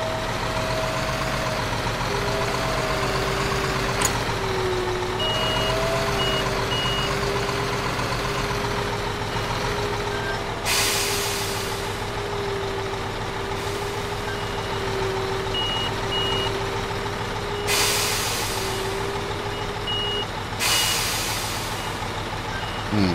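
A truck reverses with a steady, repeated electronic beep sounding over the low rumble of its idling engine, with short hisses of air brakes bursting in now and then.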